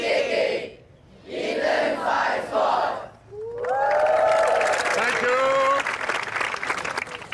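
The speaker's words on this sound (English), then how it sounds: "Quite an intimidating home crowd." A home crowd at an Eton Fives game roars and cheers loudly, with bursts of shouting that give way to a sustained, rising collective chant of a player's name.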